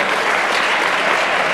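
Loud, dense applause from an audience at a high school graduation ceremony in a hall, a continuous roar of many hands clapping close by with no pauses.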